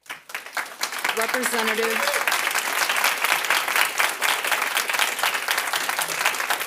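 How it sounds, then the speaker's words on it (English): Steady, dense applause from members in a Florida House committee hearing, rising after a brief spoken word at the start and holding loud and even to the end. "I will ask that the members please hold their applause"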